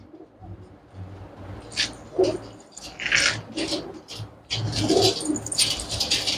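Pigeons coo in a loft of birds kept for sale, soft throaty calls repeating among flapping and shuffling.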